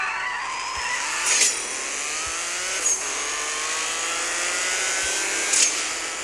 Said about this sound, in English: we heard the car was getting louder